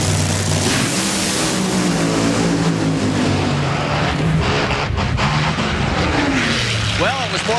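Funny car drag racing run by Tony Bartone at the 2004 NHRA Route 66 Nationals in Chicago, a loud sustained engine roar filling the clip with shifting harmonic tones beneath an excited commentator's voice.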